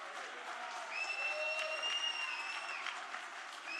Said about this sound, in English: would you please give her a nice round of applause for the Vanna of the Blue Chip, Miss Jessica